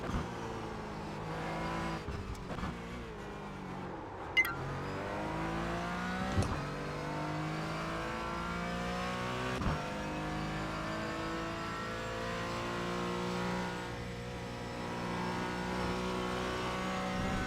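Race car in the iRacing video game braking hard and downshifting to second gear, engine pitch falling in stepped drops with blips between shifts, a steady in-car engine drone throughout at moderate level.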